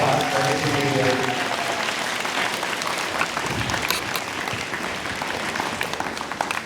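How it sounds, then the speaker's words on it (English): Audience applause at a school Memorial Day assembly, a dense, sustained round of clapping from children and adults filling the room, with a brief trailing voice or music at the very start before the clapping carries on alone. "can we give the whole fourth grade a big round of applause for it?"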